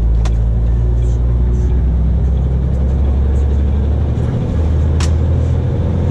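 A car rolls steadily along a road on top of a dike, its engine and tyre rumble forming a loud, continuous low drone with a few brief higher clicks over it.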